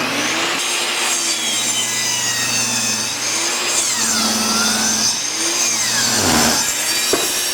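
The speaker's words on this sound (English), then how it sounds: "I was pushing that piece of 2x through there pretty hard" A SawStop jobsite table saw rips through a 2x board pushed hard into the blade, a loud continuous whining cut with the motor pitch sagging and recovering under load, close up and with no talking.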